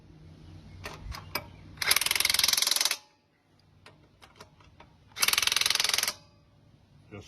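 Lug nuts being snugged onto a Chevelle wheel fitted with a trim ring, heard as two loud bursts of an impact or power tool separated by a pause, with scattered clicks and light mechanical handling in between.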